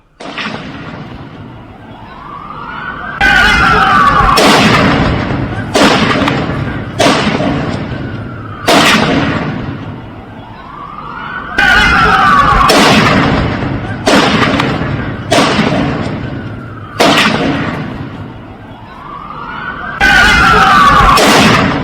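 Repeated sharp loud gunshots from two shooters on a beach in irregular bursts, each cracking out and echoing, with a faint whistling sweep before some blasts; no voices.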